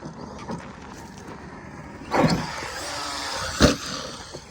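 An Arrma Kraton 4S RC car drives nearby out of sight, a steady motor whir with two sharp bursts of louder revving or impact and no talking.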